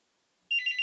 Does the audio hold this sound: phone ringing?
yes